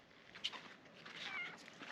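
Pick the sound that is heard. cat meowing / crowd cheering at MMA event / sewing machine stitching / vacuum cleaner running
cat meowing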